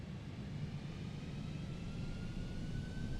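Boeing 747-8F engines spool at takeoff thrust in the flight simulator MSFS2020, a steady, dense roar with low rumble and a faint rising whine, heard alone throughout.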